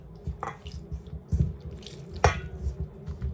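Water poured into flour in a bowl while mixing dough for Jamaican fried dumplings, heard as short close drips and splashes with soft handling noise between them and no talking.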